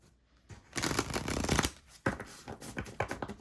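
Close, crackling oracle card shuffling in repeated riffles with brief pauses, no talking.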